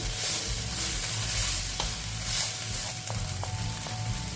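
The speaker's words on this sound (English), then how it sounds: "Okay, so you're going to mix those saltfish pieces in." Saltfish pieces fry in seasoning and are stirred around the pan. A loud, steady sizzle is broken by several sharp clicks and scrapes of the utensil, with no voices.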